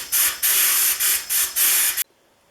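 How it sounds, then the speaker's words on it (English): A sandblaster blasts the underside of a Stanley No. 20 1/2 circular plane in five loud, close bursts of harsh hiss with short gaps between them, then cuts off to near silence. "going to use my sandblaster on the bottom side"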